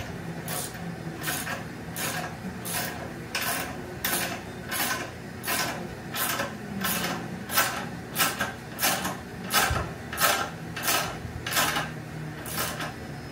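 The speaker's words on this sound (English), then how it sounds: "now we jack up the jack" Jack being pumped to lift the front end of a Triumph Street Triple 675 motorcycle, a steady series of about twenty regular metallic clanking strokes, close and evenly paced, with no talking.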